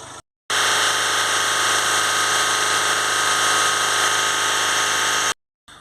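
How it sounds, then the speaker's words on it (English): A Jaguar F-Pace 2.0 diesel engine idles steadily right after being restarted, a loud, constant droning hum with a tonal whine that holds evenly for about five seconds between short silent gaps. "Now we're going to start the car back up."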